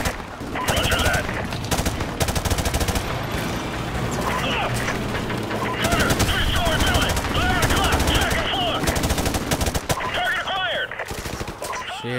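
Rapid automatic gunfire from the Call of Duty: Modern Warfare Remastered War Pig mission rattles in dense bursts, loud and continuous, mixed with bangs and clanks while voices talk over it.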